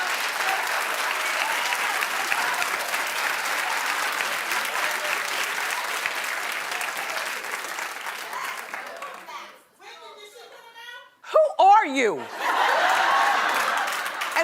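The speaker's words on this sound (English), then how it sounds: "why do you clap like that?" Studio audience applause, a dense sustained roar of clapping that fades out, followed by a short spoken line and a brief return of clapping mixed with some chuckles.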